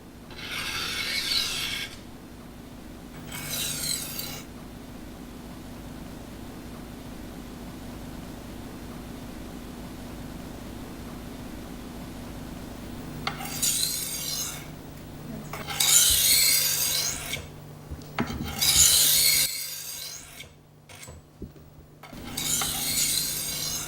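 A European-style knife is sharpened on a Norton sharpening stone, a few separate bursts of gritty rasping strokes, close and crisp, with quiet pauses and faint clinks between them.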